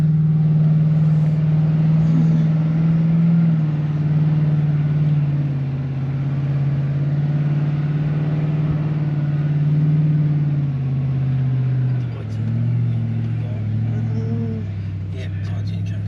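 Cars driving near a beach at Esperance, a steady low engine rumble and road drone throughout, one vehicle passing close with a shifting pitch, some scattered noise near the end, no clear talk.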